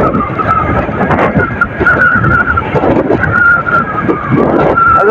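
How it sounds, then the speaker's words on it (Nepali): Strong wind buffets a moving motorbike on a ride in Nepal, a loud continuous roaring rumble over the microphone with a droning engine tone beneath it. "आज बाइकले पुरै धकाल्ने गरी हावा चलिरहेको छ यार के साह्रो हावा चलेको"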